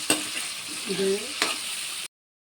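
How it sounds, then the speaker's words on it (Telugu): Vegetables fry with biryani masala in a pan, giving a close hiss broken by two sharp utensil knocks and a brief scraping stir, before the sound cuts off abruptly. "ఇవన్నీ వేసుకుని బాగా ఫ్రై చేసుకుందాం"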